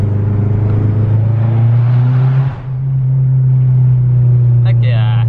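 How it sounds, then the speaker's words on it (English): A Mazdaspeed 6 with a Corksport blow-off valve drives through a tunnel, its engine droning loud and steady before a brief, sharp venting whoosh with a fluttering tail near the end. "This blow-off valve sounds so cool."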